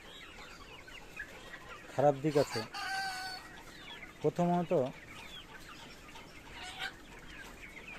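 Sonali chickens on a farm cluck in two short bursts, one near the start and one midway, set against steady background noise with someone talking nearby.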